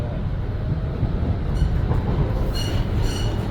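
An MBTA subway car on the Orange or Green Line rolls along the rails with a heavy, steady rumble and clatter, overlaid by thin, high wheel squeals near the end, heard from inside the car.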